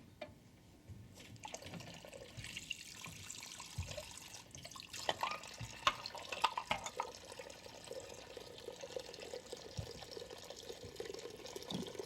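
Water runs from a tap while cups are washed at a sink, a soft continuous splashing stream with faint drips and clinks, heard quietly and a little distant.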